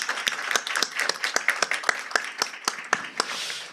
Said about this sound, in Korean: 우리 반주자들에서 한 박수 한번 쳐드리면 좋겠습니다.